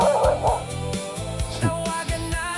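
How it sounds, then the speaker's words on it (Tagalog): Several dogs bark and yip while playing on a sandy resort beach in Cebu, with short repeated barks close by that overlap one another. "naglalaro ang mga aso"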